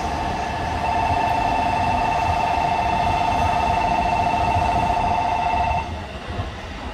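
An Utsunomiya Line E231 series ten-car electric train pulls out of a station platform, a steady loud rumble with a sustained tonal whine that cuts off near the end, leaving quieter rolling noise.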